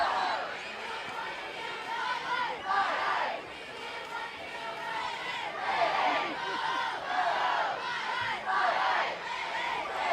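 Football crowd at a varsity game, Troy at Farmington, cheering and chanting in rising waves, stirred up by middle school cheerleaders, with a steady roar of many voices throughout.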